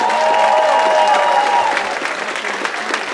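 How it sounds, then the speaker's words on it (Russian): A dancesport championship audience applauds the competing dance couples, with sustained close clapping that thins slightly toward the end and faint voices mixed in. "Аплодисменты парам!"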